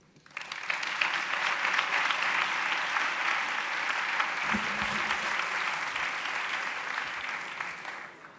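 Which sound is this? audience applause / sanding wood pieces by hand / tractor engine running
audience applause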